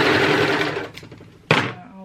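A Singer HD 4411 sewing machine runs in a short dense burst of stitching that slows and fades, then a sharp click or clunk follows as it stops, close and fairly loud.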